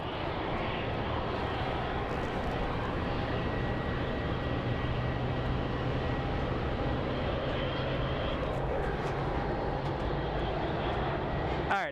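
A fixed-wing airplane at Phoenix Sky Harbor airport holds a steady, broad jet engine roar over twelve seconds. It sits at a constant moderate level with no talk over it.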